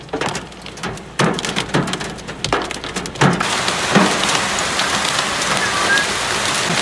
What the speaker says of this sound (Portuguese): Lá em Três Rios, hoje choveu até granizo.